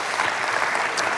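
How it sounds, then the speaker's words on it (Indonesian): A church congregation applauds during a sermon, producing a dense, steady wash of clapping that fills the whole moment without a break. "Ya tepuk tangan dulu yang dahsyat buat Tuhan kita."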